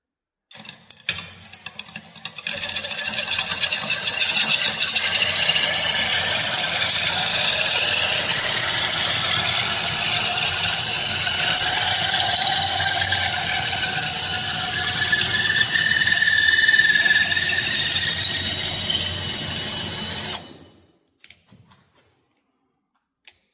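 Electric screwdriver with a fitted knife attachment running continuously for about twenty seconds, a loud steady whirring and grinding drone with a slight pitch rise near the end, then stopping abruptly.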